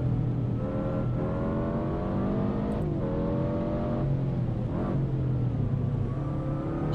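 A 2022 Subaru WRX engine in a driving sim on the Tail of the Dragon road, revving steadily with sharp throttle blips as it downshifts heel-toe, the pitch dipping and rising several times, close and continuous.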